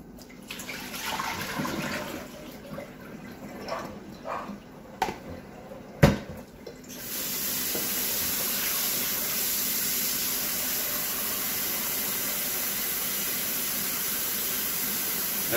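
Striped bass fillets are swished around in a bowl of water, giving soft sloshing and splashing with a thud, then a steady running-water hiss from a tap.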